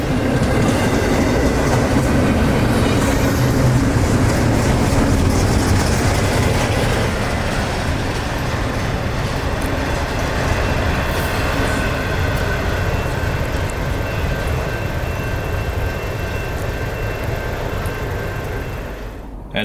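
A long freight train rolls past in Winter Haven, a loud, continuous rumble and clatter of rail cars close by that holds steady for the whole stretch and begins to ease at the end.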